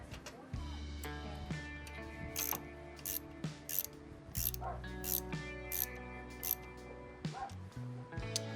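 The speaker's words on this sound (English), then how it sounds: "shifter bolt tightened down" Ratchet clicking as it tightens the shifter bolt on a wrecked motorcycle, a run of close, crisp mechanical clicks over steady background music-like tones, with no talking.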